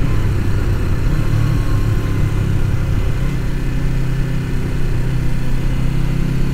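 A 1989 Suzuki GS500 cafe racer motorcycle on a cold test ride, its engine a loud continuous droning hum mixed with rushing wind, steady throughout with no talk.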